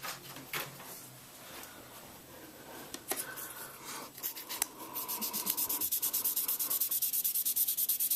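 Super fine sandpaper rubbed by hand across a retro game cartridge, a dry scratchy friction that starts with scattered strokes and settles into a steady, fast back-and-forth rhythm close up.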